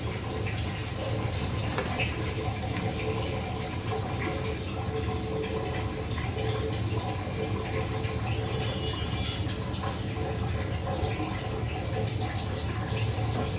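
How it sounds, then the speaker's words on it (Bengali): Hot water, six cups, is poured steadily into a pot of fried lentils for khichuri, a continuous loud rushing splash that runs without break throughout. "ছয় কাপ পরিমাণে গরম পানি অ্যাড"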